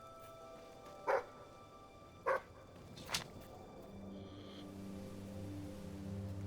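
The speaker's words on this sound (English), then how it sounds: "What are you barking at?" A dog in the video game Fable III gives three short, sharp barks spaced about a second apart over a low background hum that slowly swells into a droning tone.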